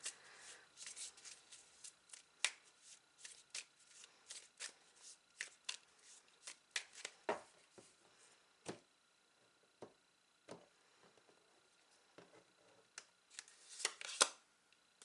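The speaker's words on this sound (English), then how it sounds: "So I'm going to draw a final card to close out your reading." Tarot cards are shuffled and drawn at close range, producing quick riffling flutters and sharp papery snaps in uneven bursts, quiet overall with a louder flurry of slaps near the end.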